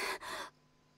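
A character in the Genshin Impact video game pants in two quick, breathy gasps close to the listener, followed by quiet.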